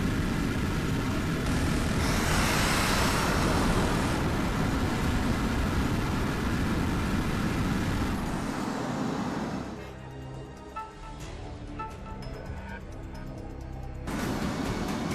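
Military jet engines roar in the HAWX combat flight game, a loud sustained broadband rush. It thins out partway through, giving way to quieter cockpit tones and electronic beeps before the engine noise surges back.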